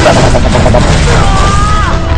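Loud explosion in the video game Gay Hazard 2: a dense, roaring blast with heavy low rumble that fills the whole moment, with a brief rising tone near the end and a voice mixed in.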